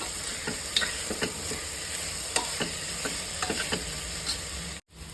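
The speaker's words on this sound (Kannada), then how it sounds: "ಈಗ ನಾನು ಒಂದು 7 ರಿಂದ 8 ಬೆಳ್ಳುಳ್ಳಿನ ಮ್ಯಾಶ್ ಮಾಡಿ ಹಾಕ್ತಾ ಇದ್ದೀನಿ" Mashed garlic cloves, seven or eight of them, drop into a hot pan of oil for rasam and sizzle steadily, with repeated stirring and scraping clicks over the frying hiss.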